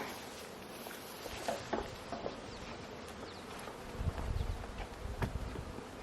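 Honeybees buzz faintly around the listener at their hives, with occasional close fly-bys and soft tapping sounds over a low hum.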